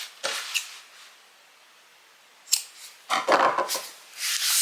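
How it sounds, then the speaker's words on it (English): Scissors snip through the fabric of a sewn zipper bag just beyond the stitch line at a corner, several crisp close cuts separated by brief pauses and light rustling. "do a cut right on the other side of that stitch line"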